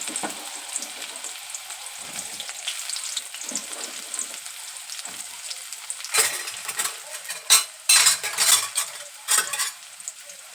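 Onion and cumin sizzle steadily in hot oil in a kadai, with a continuous crackle and several louder bursts as a spoon stirs and scrapes the pan.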